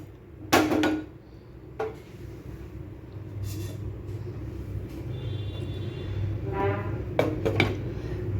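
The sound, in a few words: lid placed over a pan of paneer kofta gravy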